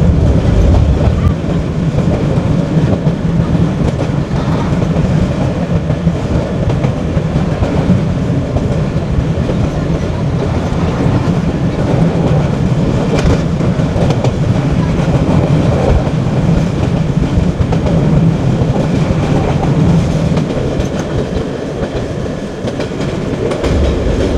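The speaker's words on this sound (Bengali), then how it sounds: "ট্রেন চলাচল করে খুব আস্তে চলাচল করে।" A train on the Chattogram to Cox's Bazar line, the Saikat Express, rolls slowly across a rail bridge with a loud, continuous rumble and rhythmic wheel clatter that barely changes throughout.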